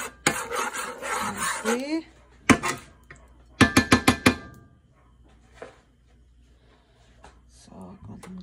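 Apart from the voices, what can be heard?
eggs being scrambled in a pan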